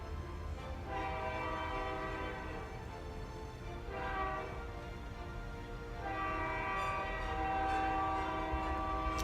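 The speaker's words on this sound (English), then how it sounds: "I can actually see the train tracks and the train go by from where I'm sitting." A train passes on nearby tracks, its steady low rumble running throughout while horn blasts sound in two stretches, one early and a louder one near the end.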